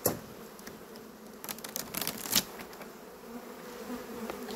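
Honeybees hum around open beehives, a faint steady buzz close by with occasional rustling and clicks of frames being handled.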